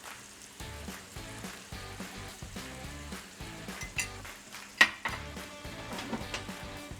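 Thyme oil goes into a hot pan with a soft, steady sizzle and frying crackle, with occasional clinks of utensils against the pan and one sharper knock midway.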